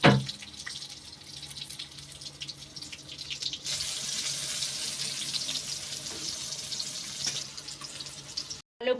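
Tap water runs steadily into a bowl of Gobindobhog rice to soak it, a continuous close splashing hiss that swells louder midway, with no talking.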